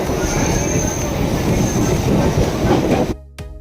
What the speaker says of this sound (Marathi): आता 12:30ची ट्रेन आहे. ती ट्रेन पकडून मी जाणार आहे CSTला.